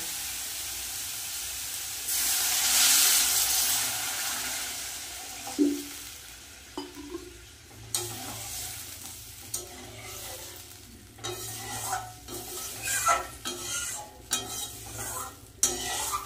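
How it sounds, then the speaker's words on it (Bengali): A pan of spiced fish curry gravy for bhola fish gives a sudden loud hiss, then settles into a softer simmer broken by scattered spoon clinks and scrapes against the pan. "ঝোল কিন্তু ভালোভাবে ফুটে গেছে"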